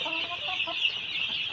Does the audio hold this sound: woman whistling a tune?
no